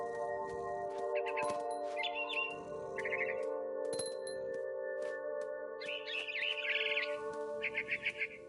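Birds chirping in the game What Remains of Edith Finch, high in a big tree: short bursts of quick, bright tweets repeating every second or so over a steady tonal wind-like drone, fairly faint.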